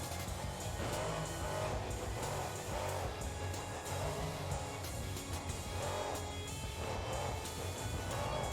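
Monster truck engine in BeamNG.drive roaring steadily and loudly throughout, with repeated rising revs as the throttle is carried between jumps, dense and continuous with no pauses.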